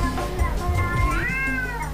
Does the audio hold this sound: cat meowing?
yes